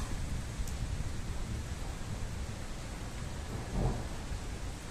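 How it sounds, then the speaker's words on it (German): Thunderstorm over Ingolstadt with a continuous wash of rain and a low thunder rumble swelling briefly near the end, heard fairly faintly from a distance without voices. "So, das Gewitter ist jetzt gleich über uns."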